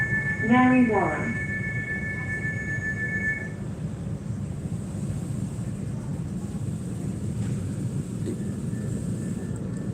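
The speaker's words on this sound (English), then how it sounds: "Got the other train coming." A train passes near a caravan park on a ride toward the city. A short horn-like tone opens, then a steady, loud rumble of rolling wheels runs throughout with a faint squeal, and people chat over it.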